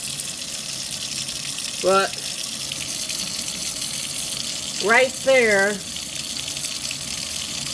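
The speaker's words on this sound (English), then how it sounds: "Right around there, water is spraying out." Leaking faucet spraying water in a steady hiss under a short spoken word and two brief tonal vocal sounds, close and constant throughout.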